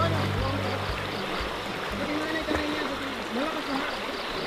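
Rushing river current that suddenly grew stronger after water came down from the mountain, a dense continuous wash of flowing water heard close and steady throughout, with faint voices mixed in.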